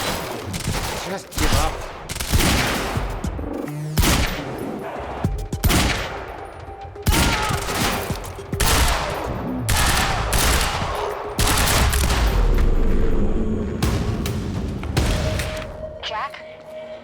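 Gunfire in the video game Quantum Break: dense bursts of rapid automatic shots and heavy booms, loud and close, repeating throughout with short gaps, while characters speak briefly between volleys.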